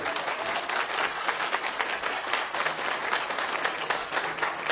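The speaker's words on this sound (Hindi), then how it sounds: "एक बार जोरदार ताली आपने ली" An audience at a seminar presentation breaks into loud, sustained applause, many hands clapping densely and evenly with no talk over it.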